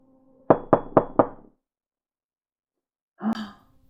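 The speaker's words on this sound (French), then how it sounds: "Tout à coup, on frappa à la porte de la chambre." Four quick, evenly spaced knocks on a bedroom door in a château, loud and close, followed by silence and then a short breathy sigh.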